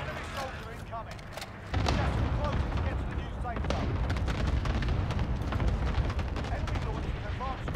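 Cluster strike explosions in Warzone rumble as a dense run of booms and rapid blasts that begins abruptly and keeps rolling, with gamers talking over it.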